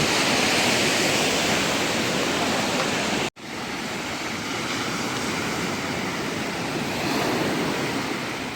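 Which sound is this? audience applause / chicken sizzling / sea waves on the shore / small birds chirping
sea waves on the shore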